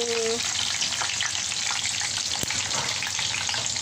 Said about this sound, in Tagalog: Bigisa natin yung ating garlic.